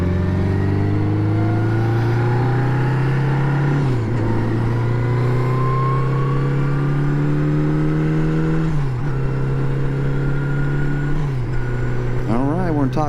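A 1980 Honda Goldwing motorcycle accelerating through its gears into top gear on an open road, its loud steady engine drone rising in pitch with brief dips at each shift.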